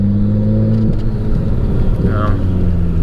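An R32 Nissan Skyline GT-R engine drones steadily in fifth gear, a low sustained hum with a slight rise in pitch, heard from inside the car with faint talk underneath.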